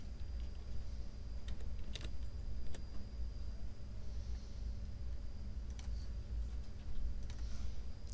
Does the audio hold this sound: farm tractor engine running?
no